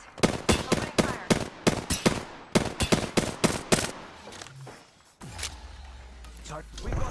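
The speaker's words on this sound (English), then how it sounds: "I'm taking shots. Opening fire." Rapid bursts of gunfire from Apex Legends weapons, Season 11 match with Octane, crack in a dense rhythmic string for about four seconds, then give way to a lower rumble and scattered game effects.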